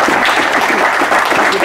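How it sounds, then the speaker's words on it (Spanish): Community audience applauding at a municipal inauguration of a castration operating room in Capilla del Monte, a steady dense wash of clapping filling the whole stretch without pause. "un aplauso para ustedes"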